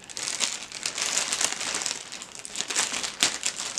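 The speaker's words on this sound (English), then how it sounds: "I have to cut off the tape at the top." Cutting tape off the top of a Dooney handbag package produces continuous crinkly plastic rustling and scraping, close and fairly loud, with no talking.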